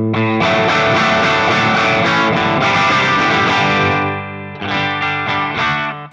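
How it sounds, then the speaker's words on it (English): Electric guitar through a Kiaayo overdrive on low gain, mild and crunchy, playing sustained chords, fairly loud and alone, with a brief dip before the final strums ring out. "low gain overdrive."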